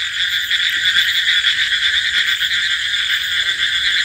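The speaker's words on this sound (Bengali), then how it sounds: "ব্যাঙের শব্দ" A loud, continuous chorus of frogs croaking at night after rain in a village, with a dense, even, high-pitched trill filling the whole stretch and no voices.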